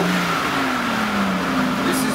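A car engine revs steadily and loudly, its pitch sliding gradually lower over a couple of seconds, with a constant roar filling the whole clip.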